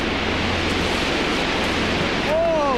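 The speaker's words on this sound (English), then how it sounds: "in the distance, they hear the river falling" Roar of the Yarlung Tsangpo river plunging over a waterfall, a dense, steady rushing wash heard from a distance that swells louder near the end.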